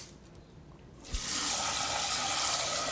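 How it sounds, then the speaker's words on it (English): A kitchen tap switches on and water gushes steadily into a sink as rice is rinsed, loud and continuous after a quiet start with a faint clunk. "Before cooking, make sure to thoroughly rinse the rice"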